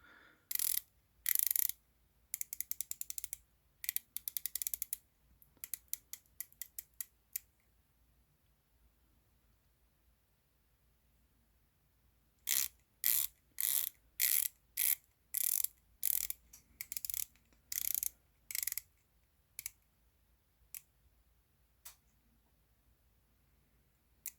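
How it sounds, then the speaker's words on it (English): A titanium Heimdallr watch bezel is turned in repeated bursts of rapid ratcheting clicks with a gritty, grinding edge, very close and crisp, separated by short silent pauses, with no voices. "there's no movement in the bezel, but as you heard, it just sounds a bit like a pepper grinder"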